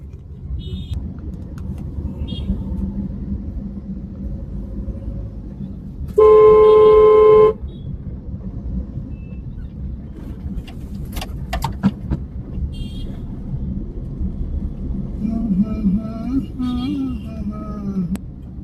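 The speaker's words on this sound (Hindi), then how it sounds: "रास्तों में इतना ट्रैफिक मिलता है यार" City road traffic in Ahmedabad rumbles steadily, broken by one long, loud car horn blast midway and a few shorter, fainter toots and honks near the end.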